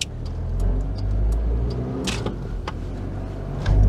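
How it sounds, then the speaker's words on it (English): Ford Maverick 2.7 turbodiesel SUV from 1995 revving in a pub car park, a steady loud diesel drone with a low rumble, rising again near the end. "And you hear it, revving it just makes it noisy."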